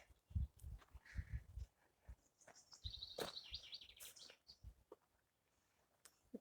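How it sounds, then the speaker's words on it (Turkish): Birds chirp and call in short bursts in a pine forest at Zeytin Plateau, Denizli, with a few brief higher trills, over low rustling and scattered knocks. "Kuş sesleri."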